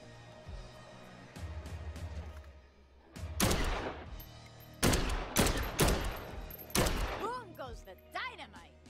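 Loud, sharp bursts of gunfire break out in the zombie game Dead Island 2, coming in several separate volleys between quieter moments, with a voice speaking alongside.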